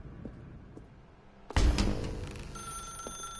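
A telephone rings inside the video game The Stanley Parable, starting abruptly after a quiet stretch with a loud burst and then holding as a steady ringing tone.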